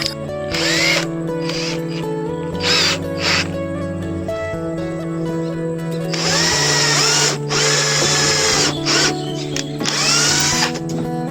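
A power drill whines loudly in repeated bursts, its pitch rising and falling as it starts and stops several times, close by.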